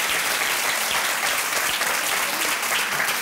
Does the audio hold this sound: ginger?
no